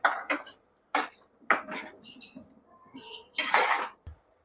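A utensil stirs thick egg gravy in a cooking pan, with several short scraping and clinking bursts up close, irregularly spaced.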